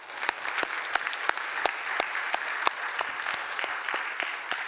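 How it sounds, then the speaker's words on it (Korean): A church congregation applauds in thanks to God, filling the room with steady, lively clapping and a run of crisp, evenly spaced louder claps throughout. "우리 하나님께 한번 감사의 박수를 넣었으면 좋겠습니다"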